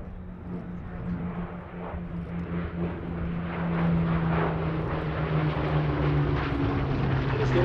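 Steady drone of a Hawker Hurricane monoplane's piston engine and propeller at the Sywell airshow, holding at a continuous level and growing slightly louder partway through, heard from a moderate distance with no speech.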